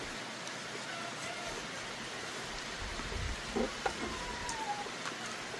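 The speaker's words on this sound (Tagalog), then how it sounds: "Maulan ngayon dito." Steady rain falls outdoors in the US, a dense, even wash of hiss with a few soft knocks and thumps rising briefly midway, no voices.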